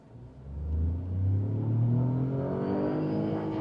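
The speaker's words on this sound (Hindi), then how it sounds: "सीएनजी हमने खत्म कर दी तो हम पेट्रोल में इस वक्त चल रहे हैं। So first gear" A petrol Tata Altroz facelift hatchback pulls away in first gear, its engine note rising in a steady, moderately loud hum from inside the cabin, with no talking.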